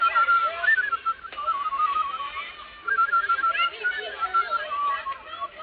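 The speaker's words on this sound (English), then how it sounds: "I hope I can still whistle." Someone whistles a wavering, high-pitched tune for several seconds, the pitch sliding up and down with brief pauses, close to the listener.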